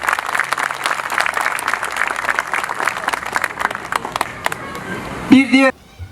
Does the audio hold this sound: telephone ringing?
no